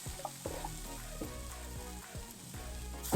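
Onions sizzle and crackle steadily in hot oil in a pan, a busy frying hiss with music playing quietly underneath.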